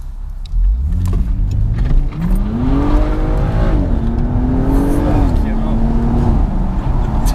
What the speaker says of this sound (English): hopefully you guys will be able to hear the car a bit better anyway